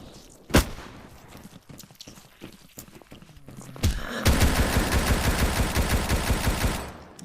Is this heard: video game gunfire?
yes